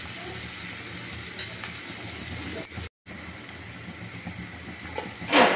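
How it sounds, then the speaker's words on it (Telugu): Garlic and onions sizzle and fry steadily in a pan until golden, a close, continuous crackle with light stirring and a brief clink near the end; no talk. "వెల్లిపాయలు, ఉల్లిపాయలు, ఇది గోల్డెన్ కలర్ మారినంత వరకు వేపాలి."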